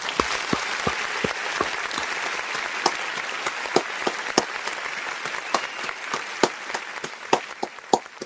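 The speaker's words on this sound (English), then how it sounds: "I want to give this man a round of applause for his life" Steady applause from a crowd, many hands clapping densely and continuously, with a few louder individual claps standing out nearby.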